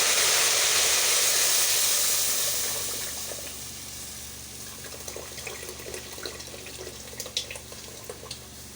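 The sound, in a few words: pepper sizzling in hot palm and vegetable oil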